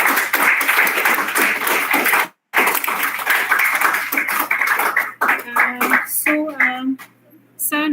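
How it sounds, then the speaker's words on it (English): A school audience claps for speakers at a startup and entrepreneurship event, dense close applause with a brief cut, then tapering into scattered claps and a voice near the end. "Can we have a big round of applause for our speakers?"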